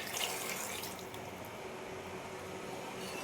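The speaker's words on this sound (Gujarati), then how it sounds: "એમાં આપણે દાળનું પાણી ઉમેરી દઈએ" Dal water pours steadily into a pot of rasam with a soft, continuous liquid rush that stays even and fairly faint for a few seconds, with no talk over it.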